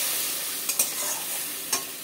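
A spice paste for a bhola fish jhal is stirred in a hot pan, giving a continuous close sizzle with a few sharp scrapes and clicks of the spoon against the pan.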